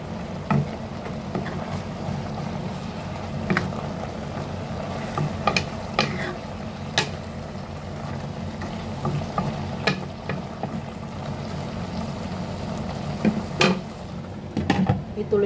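Pinakbet vegetables frying in a pan as a spoon stirs them, a steady sizzle over a medium flame with occasional scrapes and taps against the pan, no voices.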